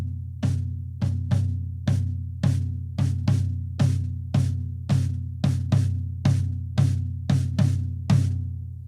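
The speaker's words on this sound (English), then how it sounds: "he's doing like unison toms" Toms struck together in unison on a drum kit, a steady series of about sixteen loud, boomy hits evenly spaced and each ringing out before the next, with no one talking.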